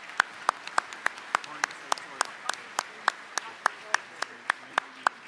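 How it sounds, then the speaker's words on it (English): Applause for Saskatchewan Premier Scott Moe and his cabinet at a municipal convention, heard as a few sparse, evenly spaced claps ringing out one by one rather than a full ovation, with faint voices beneath. "Can we give them a round of applause, please?"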